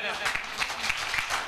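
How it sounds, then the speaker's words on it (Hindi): Loud audience clapping fills a stage seminar hall, a dense, steady patter of many hands with voices mixed in underneath. "फटाफट उनके लिए जोरदार ताली हो जाए"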